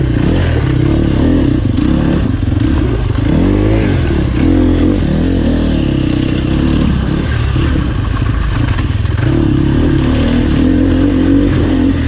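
A Sherco SEF300 dirt bike engine revs continuously while being ridden on trails at Crow Canyon, rising and falling in pitch with throttle changes, loud and close throughout with no speech.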